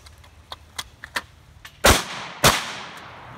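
Gunfire at a cowboy action shooting match: several faint distant reports and small clicks, then two loud, sharp nearby shots about half a second apart, each with a short echoing decay.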